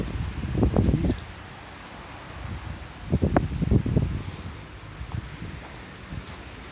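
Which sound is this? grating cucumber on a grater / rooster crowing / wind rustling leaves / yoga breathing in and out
wind rustling leaves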